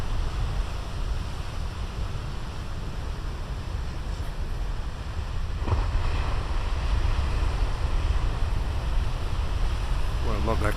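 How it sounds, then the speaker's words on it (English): Big ocean waves crash and roll continuously under heavy wind noise, a loud, dense wash of surf that swells slightly midway through. "I love these waves."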